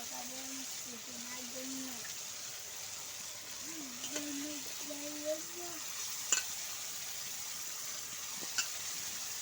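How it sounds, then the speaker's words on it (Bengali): Chicken pieces go into hot oil with cooked spices, setting off a steady bright sizzle and frying hiss with occasional stirring clinks, while a voice talks over it. "এবার আমি মাংসগুলো দিয়ে দিব।"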